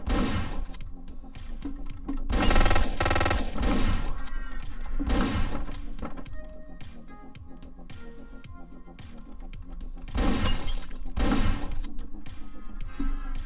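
Shotgun blasts boom in Hotline Miami, arriving as a few loud, separated bursts over a continuous pounding electronic music track.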